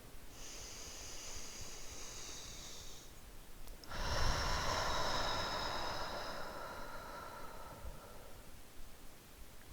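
Slow, deep breaths during a yoga child's pose: a long airy inhale, then a louder, fuller breath that swells and holds before tapering off, close and alone with no talking.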